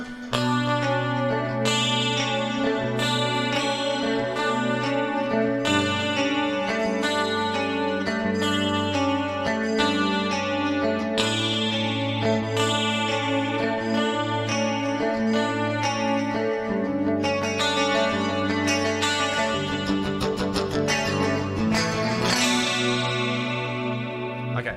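Electric guitar played through a Fractal effects unit with pitch detune and delay, a sustained chorused, echoing melodic passage that rings loud and continuous for the whole stretch, with no talking over it.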